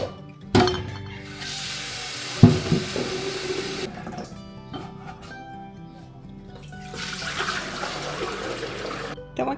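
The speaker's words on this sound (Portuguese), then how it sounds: "eu vou medir inicialmente 5 litros de água" Water running and splashing into a metal pot while five litres are measured out for a tomate sauce batch, with clinks of the vessel and bursts of pouring that stop and start, close by with no talk.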